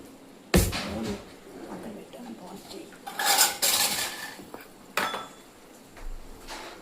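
Food being mixed in a bowl gives clattering and scraping of a spoon against the dish in uneven bursts, close by, with a louder stretch of clinking midway and faint talking now and then.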